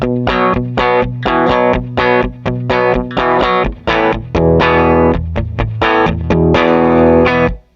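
Electric guitar dug in harder through a Divided by 13 EDT 13/29 amp with treble and bass near 10, quick strummed chords in bursts with short gaps, loud, close, slightly gritty and ringing out at the end.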